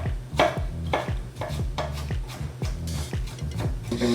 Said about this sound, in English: So we can cut it in slices and do a rough chop this way.